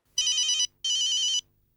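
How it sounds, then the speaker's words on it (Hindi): An electronic ringtone for an incoming video call on a phone sounds twice: two bright, buzzing bursts about half a second each with a short gap between, loud and close, with no talking. "ओए, पीड़ू का वीडियो कॉल।"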